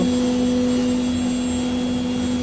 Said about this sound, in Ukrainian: От в такому економічному режимі працює система ЧПУ.